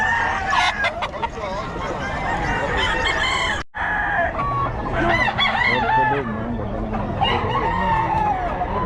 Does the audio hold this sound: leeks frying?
no